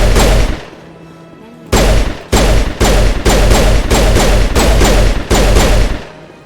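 Rapid bursts of gunfire from the video game Mass Effect, several loud volleys in quick succession after a quieter opening, with a faint voice under the first bursts.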